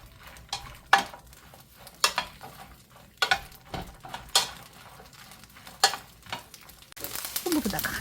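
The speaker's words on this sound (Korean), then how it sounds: "꽈리고추를 여기다가 새파랗게 볶아낼 거예요" Shishito peppers stir-fry in oil in a pan, with a series of separate scraping, knocking stirs over a low sizzle, and a louder, denser sizzle rising at the end.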